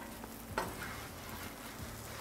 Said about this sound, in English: I want them fried crispy